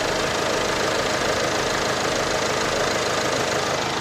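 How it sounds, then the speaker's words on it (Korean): A car engine idles steadily with a low, even rumble and faint rhythmic knock, close and continuous for a few seconds without any voices. "부르르 엔진 한번 들어보시고요."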